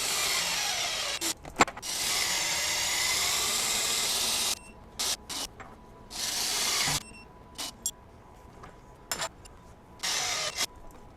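A Milwaukee 2767 M18 FUEL impact wrench runs fasteners to 700 ft-lb: a brief burst, then a long loud hammering run of about three seconds, followed by several short stuttering bursts separated by near-silent pauses.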